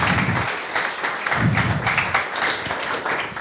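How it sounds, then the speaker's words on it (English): A conference audience claps, a dense patter of many hands applauding steadily throughout, with no voices over it. "Yeah, clap."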